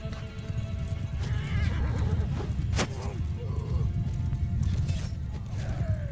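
Horses of mounted archers in a medieval battle in the video game Bannerlord: a loud whinny and neighing over steady clip-clop of hooves, with busy battlefield clatter behind.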